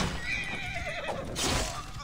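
A horse in Assassin's Creed Origins whinnies in a long, wavering neigh, heard faintly over a steady background rumble and noise during a boss fight.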